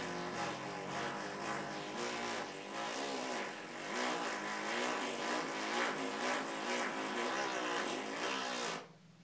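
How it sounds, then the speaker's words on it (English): A didgeridoo drone made by buzzing lip vibration hums continuously with pulsing, alternating air pressure and a rich, wavering overtone texture, played alone at close range before stopping abruptly at the end. "that's the basic lip vibration that makes the drone sound of the didgeridoo"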